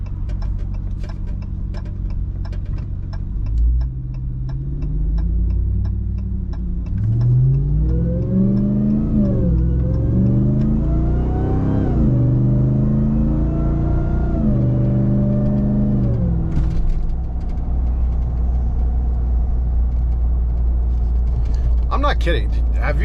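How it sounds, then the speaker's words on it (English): Ram TRX Hellcat supercharged engine with an aFe cold air intake revs up and down, its rising supercharger whine sweeping over a deep steady rumble, loud and close, with talk over parts of it. "Sound wise, you definitely hear more of the supercharger"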